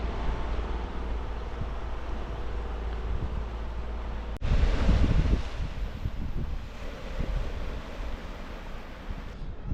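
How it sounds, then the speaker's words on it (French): Strong wind buffets the microphone with a rough, low rumble, swelling into a harder gust partway through and then easing back. "il y a beaucoup de vent aujourd'hui"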